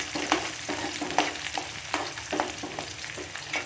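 Small chopped shallots dropped into hot oil after popping mustard seeds for a bitter gourd tamarind curry, sizzling steadily up close with regular stirring scrapes and taps of a spoon against the pan.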